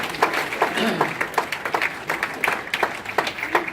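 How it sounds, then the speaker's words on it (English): A party audience claps after a hypnosis show, a moderate round of distinct overlapping handclaps at a steady pace, with some voices mixed in. "a nice round of applause for another excellent hypnotic session"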